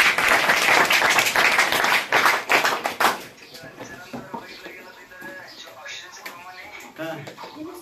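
An audience claps loudly for about three seconds, then the applause thins to scattered claps, with voices talking and laughing through the tail end.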